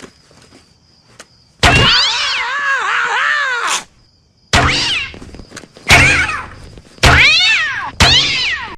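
A cat launcher from a comedic game or sketch fires repeatedly, each shot carrying a loud, close, drawn-out cat meow, first one long yowl, then four shorter bursts in quick succession.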